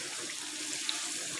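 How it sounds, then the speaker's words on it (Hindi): Tap water runs steadily into a pressure cooker holding beef for haleem, a continuous close hiss and splash with no voices. "फिर इसे प्रेशर कुकर में शिफ्ट करके तो पानी लगा देंगे 1 किलो"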